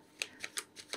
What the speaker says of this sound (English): So let's pull some cards.